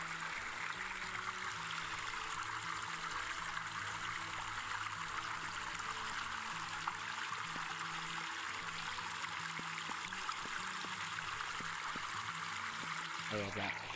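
Water in the Gorilla Tag Christmas update trickles and flows steadily, a faint continuous wash that holds through the whole stretch with soft background tones underneath.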